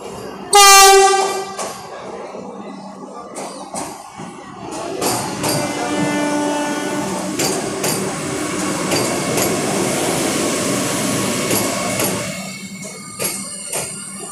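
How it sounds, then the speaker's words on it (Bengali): The Vande Bharat Express arrives at the station with a loud close horn blast at the start, then the rolling clatter of rail wheels and the carriages passing. The rumble swells and stays steady before easing near the end. "লেটেস্ট ট্রেন যেটা এখন পৌঁছে গেছে"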